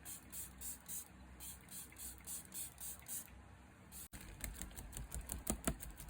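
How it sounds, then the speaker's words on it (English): Makeup setting spray misted onto a face, a quick series of short rhythmic pump sprays, close and soft, followed by faint clicking and rustling. "I always like to spray some setting spray on my face."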